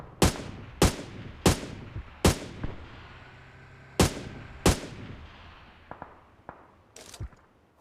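AUG assault rifle fire in the mobile game PUBG Mobile: six loud, sharp single shots at uneven intervals over the first five seconds, then several fainter distant cracks with a final louder report, no talk.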